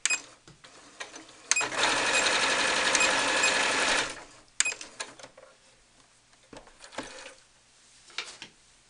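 A sewing machine stitches the seam of a cloth doll in one sustained burst of rapid mechanical chatter. Short clicks and handling noises from the machine come before and after it.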